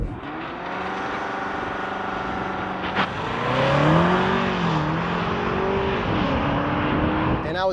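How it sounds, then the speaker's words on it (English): 2024 BMW X7 accelerating hard from a launch control start, engine note climbing through rising revs with gear changes, heard from inside the cabin as a steady strong drone, with people talking over it. "I was able to easily go into launch control mode by turning off my traction control with the traction control button."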